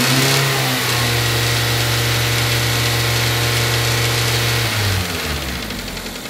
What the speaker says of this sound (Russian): Работа двигателя на 3000 оборотах.